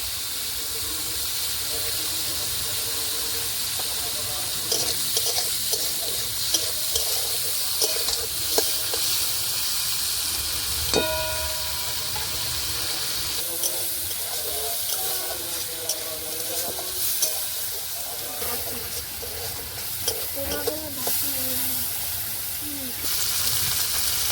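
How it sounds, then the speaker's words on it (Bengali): Prawns frying in hot oil in a home kitchen pan, a continuous bright sizzle and hiss with scattered pops and clatter of utensils, close and steady throughout. "তেলটা গরম হয়ে গেছে, চিংড়ি মাছগুলো ভেজে নেব।"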